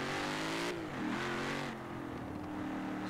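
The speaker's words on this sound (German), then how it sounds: "Das war wieder der Mustang GT." A Ford Mustang GT in Forza Horizon 4 revs loudly, climbing in pitch, then drops as it shifts and settles back into a steady high engine drone, with no talking over it.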